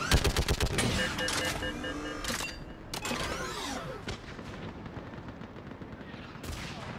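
Rapid gunfire in Mass Effect during a battle, loud bursts of automatic shots and sharp single cracks in quick succession, with booming impacts and brief shouted voices over the din.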